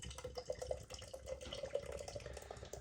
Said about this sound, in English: Ironically, pouring this in a Polly's Bruco glass.